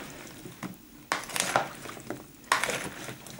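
A utensil stirs potatoes in a pan in a home kitchen, making scraping clinks and knocks against the metal in a few distinct bursts. The sound is close but fairly quiet, and nobody speaks.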